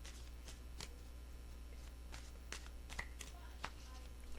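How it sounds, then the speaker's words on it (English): Tarot cards being shuffled give quiet intermittent riffling snaps and brushes at close range, set against a constant low electrical hum. "Two shuffles."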